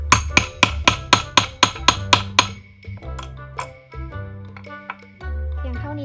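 Eight quick, sharp metallic taps ring out in an even rhythm as a snap button setter is hammered to fix a snap button, then stop; softer clinks and handling noises follow, close by.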